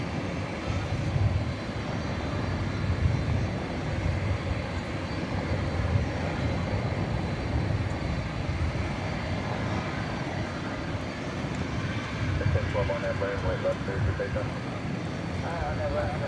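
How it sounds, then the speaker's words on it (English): An American Airlines Airbus A319 jet at DFW Airport at night, its engines giving a low, distant rumble under fairly continuous talk, with faint whining tones later on. "It's an Airbus A319 going to Monterrey in Mexico"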